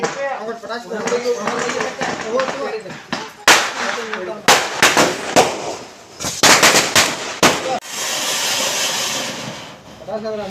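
Firecrackers go off in a rapid, irregular string of sharp, loud bangs and crackles nearby, with voices talking before and between the blasts.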